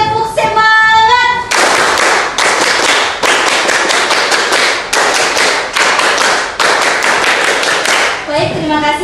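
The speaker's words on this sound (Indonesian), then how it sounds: "Tepuk semangat." A class of schoolchildren performs a rhythmic cheer clap, loud bursts of quick unison clapping in repeated patterns, with voices chanting briefly at the start and end.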